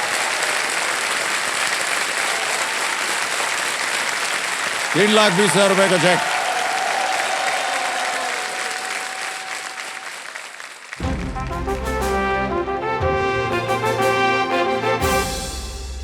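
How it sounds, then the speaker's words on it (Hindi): Studio game show audience breaking into sustained applause under a host's voice, followed by a short rising musical sting and then a loud rhythmic music cue. "जोरदार तालियां बज जाए इनके लिए।"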